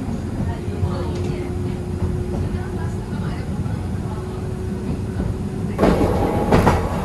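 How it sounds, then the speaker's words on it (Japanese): Fukui Railway Retram, a German-built low-floor tram, running at speed on the dedicated railway section, its steady rolling rumble and wheel hum continuous throughout, swelling with a louder rattle near the end. "手つき分解点を通過いたしまして、これからは軌道線から鉄道線に入っていきます。"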